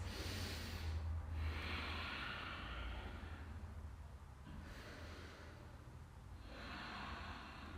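Slow, deep breaths during a family yoga stretch, a few long airy inhales and exhales heard close up and soft against a faint low background rumble.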